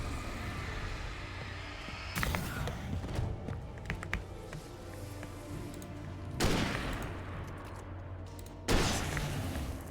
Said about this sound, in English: Takes 2 shots of the big gun to be able to kill them